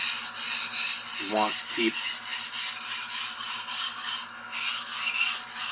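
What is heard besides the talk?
sharpening a budget Henckels chef knife blade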